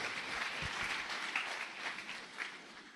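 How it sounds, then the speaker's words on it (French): Church congregation applauding after a scripture reading, a short, dense burst of clapping from many hands that stays fairly even and moderately loud throughout. "Acclamons la parole du Seigneur."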